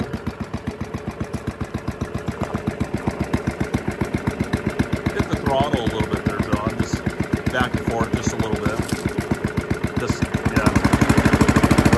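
A 1964 Polaris SnoTraveler K80D snowmobile engine runs with a steady, rapid putter, then grows louder and rougher as throttle is added near the end.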